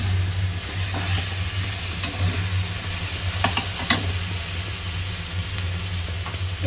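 Rohu fish and fish head being sautéed in a pan over a gas stove give a steady, fairly loud sizzle over a low hum, with a few sharp clicks throughout.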